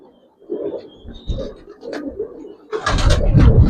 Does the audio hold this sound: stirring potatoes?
no